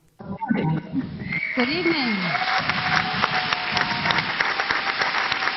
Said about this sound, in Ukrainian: І коли зал його побачив, присутні не стримували оплесків